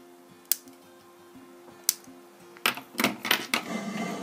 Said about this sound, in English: then I'm just going to trim back all those wires